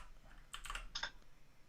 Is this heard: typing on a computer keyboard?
yes